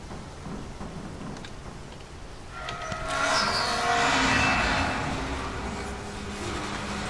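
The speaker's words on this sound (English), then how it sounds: "Storm." Thunderstorm with rain in the video game Dead Island Riptide: a steady rain hiss, then a rolling thunder crash that swells and slowly fades, with no talking.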